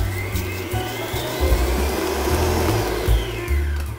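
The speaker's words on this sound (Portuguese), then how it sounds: "pode colocar tudo na batedeira. E agora a gente vai bater até virar um creme de manteiga" A stand mixer beats refined sugar and butter into a creamy mix, giving a loud, steady motorized whir with slight wobbles in pitch and no voices.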